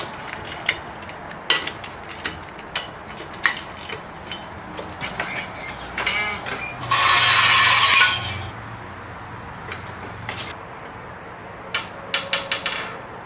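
Ratchet snugging the front strut mount bolts on a 2008 Nissan Versa during a strut replacement, with scattered close metallic clicks and clatter and a brief louder burst of rapid ratcheting in the middle.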